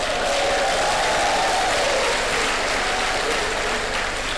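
An audience at a lecture claps in a dense, continuous wash of applause that holds steady and loud throughout, with faint voices underneath.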